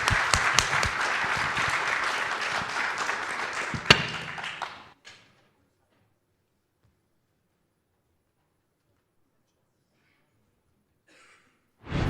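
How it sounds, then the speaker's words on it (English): A conference audience at a space-industry event applauds the panelists closing a main-stage session, several seconds of full clapping that fades out and leaves a long silence before a short burst of noise at the end. "would like to ask for a big applause for the panelists to close the session"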